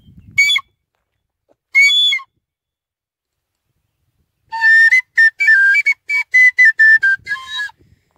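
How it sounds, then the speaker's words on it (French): Loud human whistling rings out across an open valley: two short, piercing blasts with silence between, then a rapid run of sharp, trilling notes, each echoing clearly. "ça résonne dans la vallée là quand je siffle bien fort"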